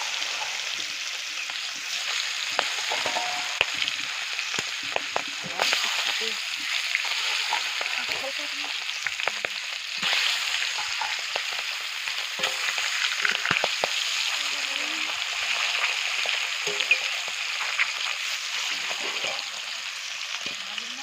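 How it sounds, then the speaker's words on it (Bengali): Fish pieces fry in oil in a karahi with a dense, crackling sizzle that spits and pops steadily at close range, marked by a few light clicks of utensils. "এবার আমি মাছগুলোকে ভেজে নিচ্ছি।"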